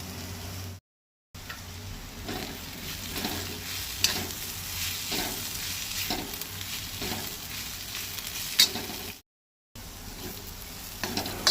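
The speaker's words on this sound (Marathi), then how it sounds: "सोय आतां बरी तळशीत रावपाक जाय।" Soybeans fry with turmeric powder in a pan for a Goan jackfruit-seed bhaji, giving a steady close sizzle with soft stirring scrapes and two brief gaps of silence.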